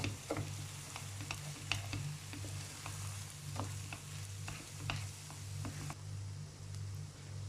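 A spoon stirs a bulgur and rice stuffing mixture for dried pepper and eggplant dolma in a pan, giving soft, repeated scraping clicks over a steady low sizzle, close and quiet.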